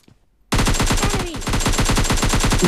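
Automatic gunfire from the shooter game PUBG Mobile Lite starts abruptly after a short silence and goes on as a loud, rapid, evenly spaced burst of shots, with no talking.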